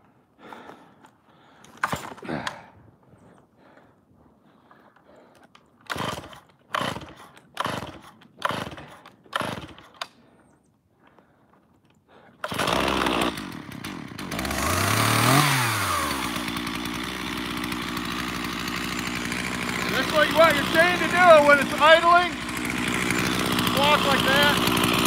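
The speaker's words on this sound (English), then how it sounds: "I'm gonna break in a brand new chain, half chisel, and a brand new bar" A chainsaw fitted with a brand new half chisel chain and new bar is started after a few sharp pull-starts, then idles and revs loudly up close for several seconds as a new chain is broken in.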